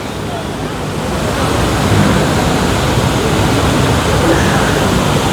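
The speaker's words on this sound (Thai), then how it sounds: "ลมเย็นมากวันนี้" Cool wind at a seaside viewpoint in Thailand, a loud, constant rush of wind buffeting the microphone and blending with surf-like roar, with no pauses across the whole stretch.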